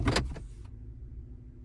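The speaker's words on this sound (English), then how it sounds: "It automatically engages the park brake." Automatic parking brake engaging on a 2024 Toyota Tacoma, a short whirring motor buzz lasting under a second, then it settles into a low, quiet cabin hum.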